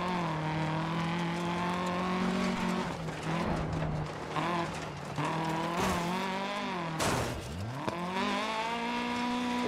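Rally car from the video game Dirt Rally racing over gravel, its engine note climbing and dropping through gear changes with bursts of gravel spray and skidding, loud and continuous throughout.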